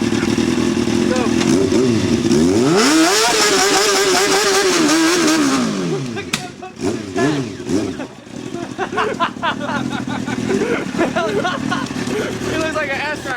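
A motorcycle ridden in heavy rain, its engine revving and climbing in pitch, then dropping and surging again, loud and close with a rough broadband wash behind it.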